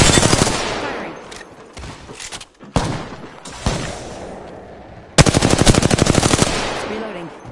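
Rapid machine-gun bursts in a video game, with loud, tightly spaced shots in several volleys separated by short pauses; the longest and loudest burst comes near the end.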